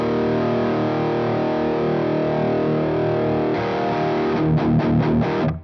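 An electric guitar runs through a Zoom MS-50G+ preamp with an impulse response loaded, playing a heavily distorted sustained chord, then a few quick chugging palm-muted hits near the end; loud and close.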